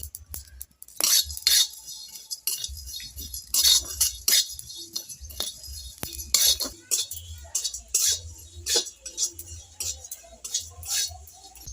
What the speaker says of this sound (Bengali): এবার দিয়ে দেব গোলমরিচ দিয়ে দেব লবঙ্গ দিয়ে এবার আমি এটা ভেজে নেব